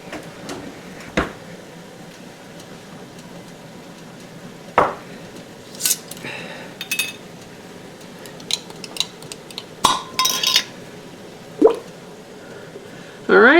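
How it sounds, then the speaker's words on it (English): Jars of apple jelly that did not set being opened and emptied into a cooking pot, with scattered sharp glass clinks, lid pops and soft wet plops and squelches between quiet stretches, no talk. "I'm going to open 2 more jars and drop them right in there"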